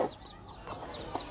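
A desi hen clucks softly near her chicks, a few short low clucks spaced across a quiet moment, close and unaccompanied by talk.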